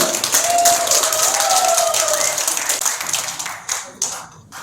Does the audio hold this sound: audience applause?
yes